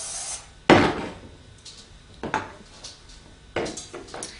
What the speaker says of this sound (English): Give it a nice spray because you do not want it to stick.